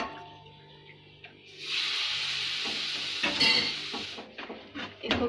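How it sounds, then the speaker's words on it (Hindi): Ghee being stirred into a Mysore pak mixture in a pan, giving a steady scraping, sizzling hiss for a few seconds in the middle, with quieter clinks and taps before and after. "इसको घी को इसमें अच्छे से मिक्स कर लेंगे।"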